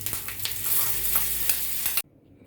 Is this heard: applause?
no